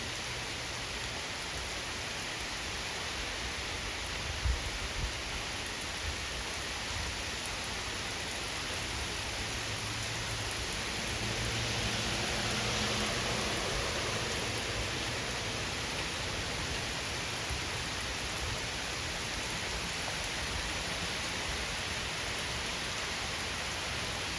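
Torrential thunderstorm rain pours down in northeast Ohio, a steady, even roar of heavy downpour that swells slightly midway and holds for the whole stretch, with no thunder or talk.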